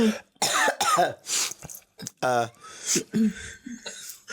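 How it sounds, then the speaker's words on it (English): Several harsh, close coughs and throat clearings break up a casual podcast conversation, with voices talking and a short chuckle in between. "cough break."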